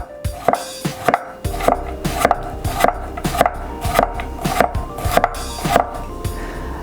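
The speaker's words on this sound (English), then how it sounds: "So I'm just going to try to cut the thinnest layers possible." Cucumbers sliced thinly by hand with a knife on a cutting board, a steady rhythm of about a dozen crisp chops close up, with no talking.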